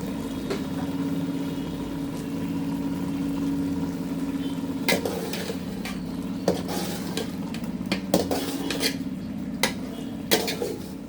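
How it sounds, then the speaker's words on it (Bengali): Eggplant being sautéed with spices for a cabbage and fish curry, a low steady cooking hum under intermittent metallic clinks and scrapes of a spatula against the pan, growing busier toward the end, without speech. "বেগুনটা ভালোভাবে কষায় নেব।"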